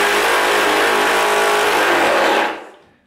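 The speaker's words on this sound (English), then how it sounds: "switch the motor over onto prime" A paint sprayer motor set to prime runs with a loud, steady whining drone for a couple of seconds, then winds down quickly into silence.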